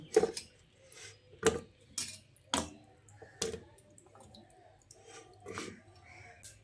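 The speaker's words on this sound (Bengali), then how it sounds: "এই প্রেশার কুকারের মধ্যে কেটে ধুয়ে রাখা এঁচড়গুলো দিয়ে দিচ্ছি" Pieces of cut, washed raw jackfruit go into a pressure cooker: a handful of separate clinks and knocks, spread a second or so apart, moderately loud and close against a quiet kitchen background.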